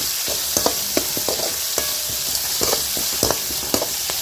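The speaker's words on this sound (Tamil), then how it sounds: "நெய் சேர்த்து நல்லா வதக்கி விட்டுக்கலாம்." Onion, ginger and garlic sautéing in ghee, stirred with a spatula: a steady broadband sizzle with repeated sharp scraping knocks at an irregular rhythm, close and fairly loud, with no talking.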